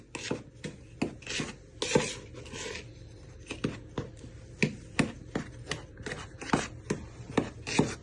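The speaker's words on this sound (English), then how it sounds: "Just give it a good stir and just pat it down with the back of your spoon" Dry cake ingredients for a caramel cake being stirred and patted down with a spoon in a bowl, heard as a close, quiet series of dry rubbing scrapes and taps in an uneven rhythm.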